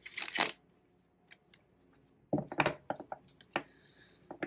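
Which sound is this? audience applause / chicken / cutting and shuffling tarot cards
cutting and shuffling tarot cards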